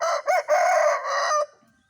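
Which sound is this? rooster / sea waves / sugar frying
rooster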